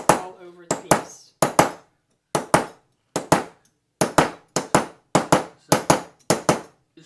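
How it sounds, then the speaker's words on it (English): Hammer blows striking a metal piece at random to texture it, sharp close impacts coming in irregular pairs and short runs, each quickly decaying, with brief gaps between groups and no talk. "I'm just going to hammer it just randomly all over the piece."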